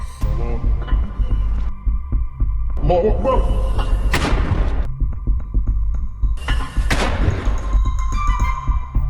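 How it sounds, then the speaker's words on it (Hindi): Mortar fire on IDF positions comes as heavy low thumps and booming bursts, repeated in two clusters under a steady throbbing hum, while a voice talks over it. "आईडीएफ के जमावड़े पर ताबड़तोड़ मोर्टार फायर करने लगते हैं"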